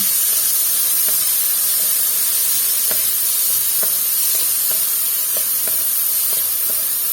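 Minced pork fries with chili and garlic in a pan, giving a loud, continuous close-up sizzle and hiss broken by frequent light spatula scrapes and stirring taps, for a fried eggplant and tofu dish, with no voices.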